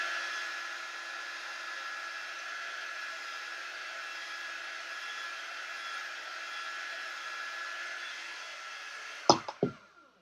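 A handheld dryer blows over wet paint on a pumpkin patch sign, a steady close airy whine held for several seconds, then ending with a few sharp knocks as it is switched off and set down.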